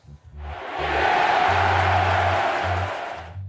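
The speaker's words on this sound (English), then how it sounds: "The Las Vegas crowd went absolutely bananas" A Las Vegas boxing crowd erupts in a loud, swelling roar of cheers and whoops that holds for a few seconds before fading, with faint low thumps beneath it.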